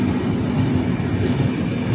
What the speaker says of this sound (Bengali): ফারাক্কা এক্সপ্রেস পাশের প্ল্যাটফর্মে রয়েছে। ফারাক্কা এক্সপ্রেস, এটা ডাউনে যাচ্ছে।